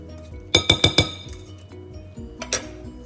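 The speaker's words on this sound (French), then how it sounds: "On va bien mélanger le tout." Gluten-free almond cake batter is mixed in a glass bowl: a quick run of four bright clinks, then a softer pair of taps a moment later, with no talking.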